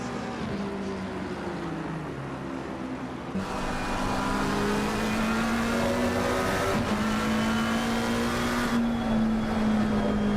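Sim racing cars at Suzuka in a racing video game, loud engines revving and shifting through a corner with rising and falling pitch, tyres squealing as they work the inside kerb, continuous and close.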